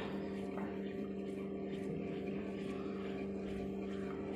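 An Autool CT150 injector cleaner machine runs its fuel pump in a high-speed test, giving a steady mechanical hum with a constant drone throughout, fairly close and even in level, with no talk.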